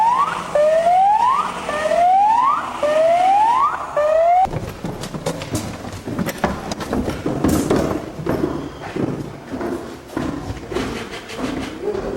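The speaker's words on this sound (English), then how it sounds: "Oh, sirens, lights and sirens." A police siren wails in rising sweeps four times, loud and close, then cuts off into clattering thumps and rumbling noise.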